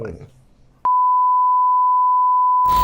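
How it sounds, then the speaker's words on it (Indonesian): A steady, single-pitched censor bleep cuts in after a bit of speech during a talk-show interview, holding loud and unbroken for about two seconds before noise resumes. "Oh, ini di bip apa enggak nih? Bip semua nih."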